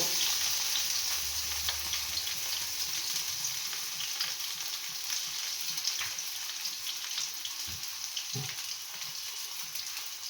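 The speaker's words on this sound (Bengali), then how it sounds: "তেলটা আমার গরম হয়ে গেছে, এর মধ্যে আমি এই আমটাকে দিয়ে দিচ্ছি" Mango pieces sizzle in hot white oil in a pan, a steady bright frying hiss running throughout with a few soft stirring knocks and scrapes, close and continuous with no voices.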